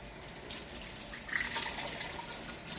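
Soaked raisins are drained and the water pours out in a soft, steady trickle and splash, fairly close and quiet, lasting a few seconds with no speech, while bread pudding is being made.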